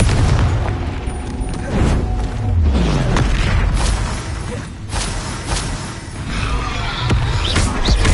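Repeated Confringo spell explosions in Hogwarts Legacy, a sustained stretch of loud booming blasts, thuds and whooshes, close and overlapping with swelling low rumble and brief sharp bursts.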